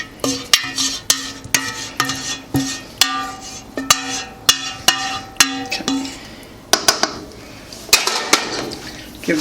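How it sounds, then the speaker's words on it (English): A mac and cheese mixture is folded in a bowl with a utensil, producing regular, sharp clinks and knocks against the bowl at a steady pace with a wet squelch between them. Nobody talks. "Now we're gonna fold the mixture in together."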